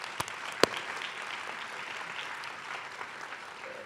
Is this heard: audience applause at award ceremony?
yes